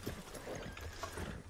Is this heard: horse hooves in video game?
yes